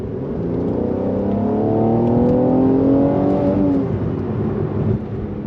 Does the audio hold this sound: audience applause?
no